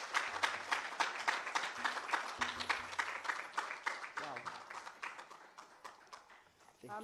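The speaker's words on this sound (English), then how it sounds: "I'm sure Mama Ada deserves a better clap than that one." An audience at a forum and expo at the University of Nairobi claps after a speech, a sustained, fairly loud round of applause that slowly thins out, with a voice speaking over it.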